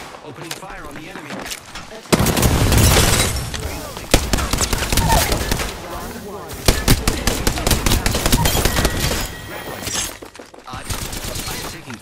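Rapid automatic gunfire and explosions fill a video game firefight, with dense bursts of shots and impacts and a voice talking over the action.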